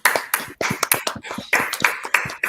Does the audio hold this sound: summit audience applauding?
yes